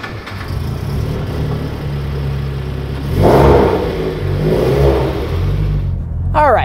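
A Subaru BRZ fitted with a Cosworth Stage 2 supercharger package revs while driving, its steady engine drone swelling into a louder pull midway, close and continuous, with a brief whine near the end.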